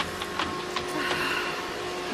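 A household vacuum cleaner runs nonstop indoors, giving a steady, dense whooshing drone with faint rattles. It is moderately loud and heard on its own, with no voices.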